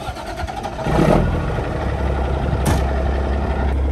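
At a diesel shop, a truck spins its tires on gravel with a loud, continuous engine roar. A brief surge and sharp crackle of gravel comes mid-clip, with no talking.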